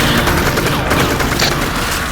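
Dense, continuous volley of gunfire from a VR shooting game, a steady wash of rapid shots filling the whole stretch at close, loud level with no break.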